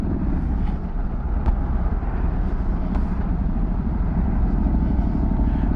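A 2024 Harley-Davidson Road Glide motorcycle cruising in fourth gear, its engine and road noise a steady, loud, continuous drone with no talk over it.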